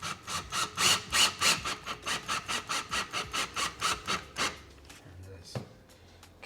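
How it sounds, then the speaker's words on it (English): A screw is driven into pre-drilled wood for a curtain rod bracket, giving a rapid run of rhythmic squeaking, rasping turns that is loud and close, then a few fainter scrapes as it finishes. "now we're going to put the bottom screws in"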